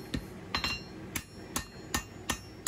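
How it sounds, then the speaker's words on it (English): A hammer strikes a small everyday-carry knife blade being forged on an anvil, giving six or seven sharp metallic rings at an uneven, roughly half-second rhythm. "Come back to the anvil. Curve it down a little more."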